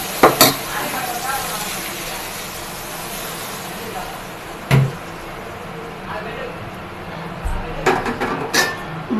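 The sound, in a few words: appam batter sizzling on a hot pan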